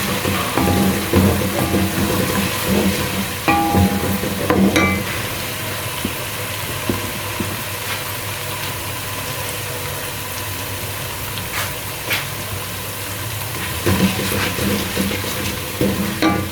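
Ginger garlic paste fries in a pan for a chicken gravy, a steady close sizzle that runs throughout, with occasional scraping and stirring clinks.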